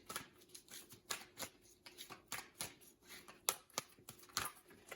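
Tarot cards being shuffled, with soft, quiet riffling and irregular crisp flicks and taps repeating throughout.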